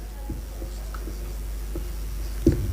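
A pen writing by hand during a language lesson, a faint scratching of strokes with a few light taps on the page, heard close and quiet against a steady low hum.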